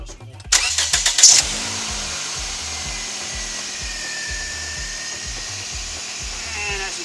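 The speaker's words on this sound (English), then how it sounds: "I'm going to start the car." A 2006 Scion xB engine starts with a burst of cranking, then settles into a steady, close idle that runs on alone.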